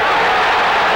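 Arena crowd at a 1988 Illinois Fighting Illini vs Missouri Tigers college basketball game roars after a Mizzou three-pointer, a dense, loud, sustained wash of cheering with no clear gaps.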